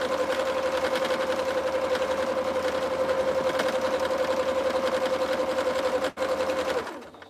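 A home sewing machine runs steadily at high speed, a continuous close mechanical whir with rapid stitching pulse, stopping abruptly near the end with a small clunk.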